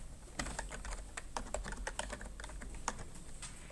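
Typing on a computer keyboard while writing Python code, a close run of quick, uneven key clicks with brief pauses between bursts, no speech.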